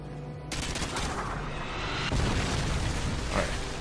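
A grenade goes off in Call of Duty: MW2 Spec Ops, a loud sustained blast and rumble with crackling gunfire-like noise running through the whole stretch, building stronger toward the end.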